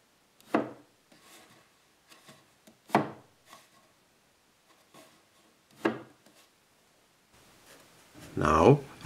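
Spruce stock being worked by hand for pipe organ keys, with several separate sharp wooden knocks and scrapes spaced a few seconds apart, then a longer rough rasping rub at the end, close and fairly quiet.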